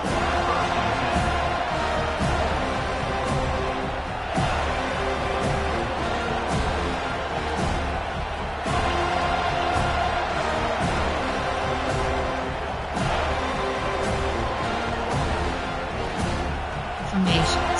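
Stadium crowd noise in a football video game, a dense continuous roar of cheering that swells in waves, steady and loud throughout with no clear gaps.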